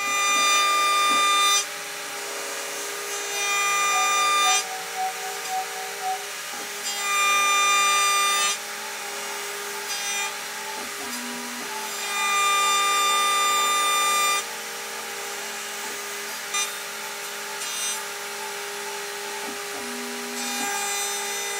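Steady high-pitched whine of a CNC router cutting a guitar bridge channel in wood with a 1.8 mm end mill, loud and continuous with pitch dips and brief pauses as the cutter changes direction.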